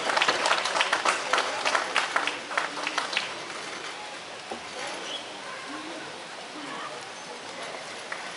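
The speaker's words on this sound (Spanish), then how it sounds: "Fuerte el aplauso a los participantes del movimiento de la rienda" An audience applauds participants at a rein-handling horse event organized by a riding club, with loud, dense clapping at first that thins out and fades to scattered claps and ambient crowd noise.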